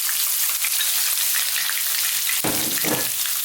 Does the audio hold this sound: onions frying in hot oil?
yes